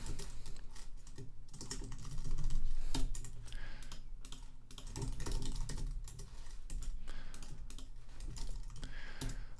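Fingers type steadily on a computer keyboard, entering form data in a rapid, continuous clatter of keystrokes that swells and eases slightly, close up and with no speech.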